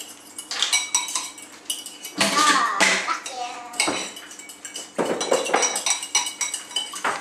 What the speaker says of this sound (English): Mix it all up. Make sure it doesn't slop over the sides.